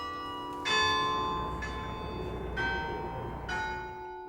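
Church bells ring in four distinct strikes roughly a second apart, each tone ringing on with long overtones over a low background hum.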